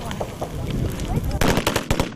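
Sharp gunshots crack in a rapid cluster near the end at a military shooting range where recruits train with small arms, following a rumbling, muffled stretch with faint background voices.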